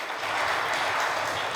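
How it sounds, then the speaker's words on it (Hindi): Audience at a Hindu religious discourse (Gaukatha) in Delhi applauds, a dense, steady wash of clapping from many hands that stays loud and unbroken throughout the short burst. "तालियां बजाइए।"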